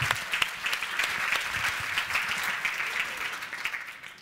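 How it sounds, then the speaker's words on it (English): An audience gives sustained applause for the mic runners at a talk, a dense, steady wash of many hands clapping at once that holds throughout and tapers slightly at the end. "Let's give our mic runners a round of applause."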